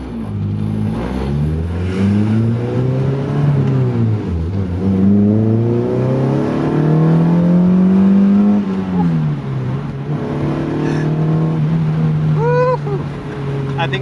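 A K24-swapped Mazda Miata MX-5 revs loudly from inside the car, its raspy engine note rising and falling through several pulls and gear changes, with a sharp whine near the end.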